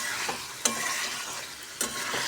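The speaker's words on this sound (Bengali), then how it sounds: "মাংসটা এইভাবে কষতে হবে ভালো করে, সামান্য জল দিয়ে ভালো করে কষতে হবে" Meat being stir-fried with a little water in a pan, a continuous sizzle broken by two sharp scrapes of a stirring utensil.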